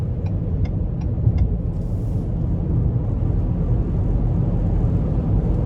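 A 2020 Lincoln Corsair Reserve FWD accelerates in sport mode, its engine and road noise forming a steady, deep rumbling drone heard from inside the cabin, with a few faint clicks early on.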